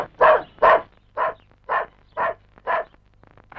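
A tied-up dog barks loudly and close by, six sharp barks in an even rhythm with short silences between them.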